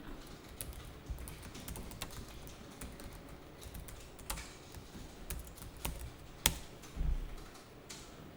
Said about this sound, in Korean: 그러면 여기다 타자를 해야죠